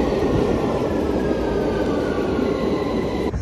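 A London Underground train arrives at a station, a loud continuous rumble and roar of wheels on rails with a faint high squeal, close by and steady throughout.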